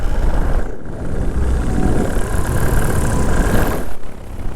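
A paramotor engine runs on throttle in flight, a loud, continuous droning roar holding fairly steady with a slight dip and recovery, heard alone without voices.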